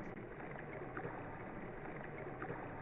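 Steady low rushing of water and engine-like hum, a continuous boat ride ambience in the video game Undertale with no talk, fairly quiet and even throughout.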